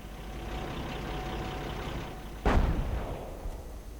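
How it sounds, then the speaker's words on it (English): A Hummel self-propelled artillery gun fires a single heavy boom in a World War II strategy video game, cutting through a constant low rumble of engines and ambience, then fading into a reverberant tail. "Hummel firing once more into the American base."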